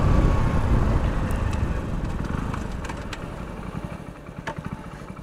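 A 2023 Hero Splendor Plus motorcycle ridden at top speed in fourth gear, a loud continuous engine drone mixed with heavy wind rush that gradually fades a little over the clip, with no talking.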